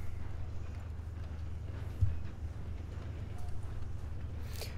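Horse hooves clip-clop in Red Dead Redemption 2 Online, a steady low rhythmic clopping of a horse moving at a walk with ambient game sound, no talk over it.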